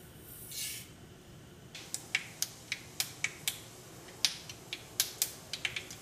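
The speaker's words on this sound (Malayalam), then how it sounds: "നമ്മൾ കടുക് പൊട്ടിയിട്ടുണ്ട്" Sharp crackling pops of mustard seeds in hot coconut oil, starting sparse then coming in quick irregular bursts, fairly close and crisp.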